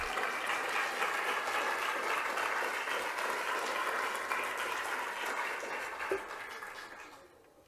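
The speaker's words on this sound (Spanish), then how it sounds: "Mientras tanto podemos aplaudir a los ganadores" Audience applause at an annual closing and awards ceremony, a dense, steady clatter of many hands clapping for the winners that holds evenly, then thins and fades out over the last second or so.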